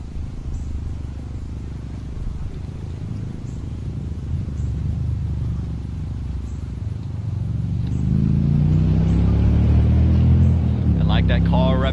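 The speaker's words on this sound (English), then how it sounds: "That car revving up." A car engine revs up near a T20 cricket ground, a low rumble swelling to a loud, strained roar near the end, while commentators talk throughout.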